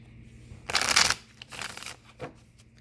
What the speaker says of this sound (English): I'm going to shuffle all the cards